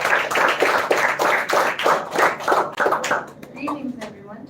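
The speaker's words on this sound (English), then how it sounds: "give her a big round of applause" An audience at a children's literature festival school round claps in a steady burst of applause that tapers off, followed by a voice starting to speak.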